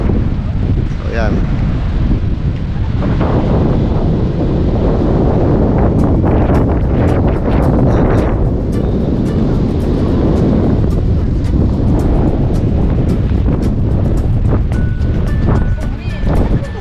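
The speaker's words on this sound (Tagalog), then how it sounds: "Masyadong mahangin mga ka-vloggers, oh." Strong wind buffets the microphone outdoors near a tall city tower, a steady loud rumble filling the whole stretch, with people talking over it.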